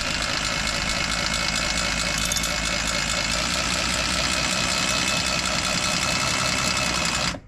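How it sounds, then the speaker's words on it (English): Electric drive motor lowering a caravan stabiliser leg, a loud, steady grinding whine with a rattling vibration, close up and continuous until it cuts off abruptly as the clutch slips at the end. "And you'll hear the clutch activate"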